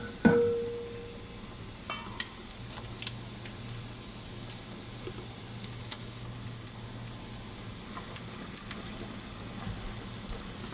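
Meatballs for Chinese lion head soup drop into boiling water in a wok with a soft splash at the start. Quiet bubbling and light pattering follow, with faint clinks and a low background hum throughout.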